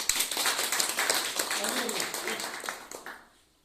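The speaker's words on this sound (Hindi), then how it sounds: "और सेफ सब के लिए जोरदार तालियां।" Audience applause fills a Hindi-language direct-selling seminar in India, a dense, steady patter of many hands that carries for about three seconds before fading quickly to quiet.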